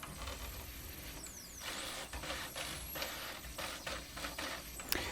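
A homemade drawing robot run by LinuxCNC homes its X, Y and Z axes, giving faint whining stepper-motor sweeps and buzzing moves that shift pitch over a steady background hiss, with a small click near the end.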